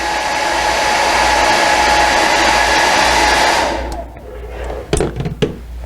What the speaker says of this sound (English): dry your sample with a hairdryer